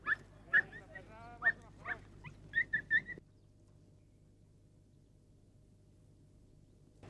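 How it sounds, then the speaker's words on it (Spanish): Podenco hunting dogs give excited yelps and barks while chasing rabbits through scrubland, a burst of several sharp cries over about three seconds followed by quiet ambient hiss. "Unos pocos conejos entre el matorral están propiciando una carrera tras otra, y esas ladras que tan emocionantes resultan"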